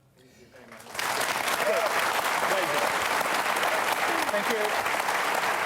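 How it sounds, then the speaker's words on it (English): An audience at a televised panel discussion breaks into sustained, loud applause that swells in after a brief spoken thanks and continues steadily with some crowd noise. "if you're going to clap, keep it brief"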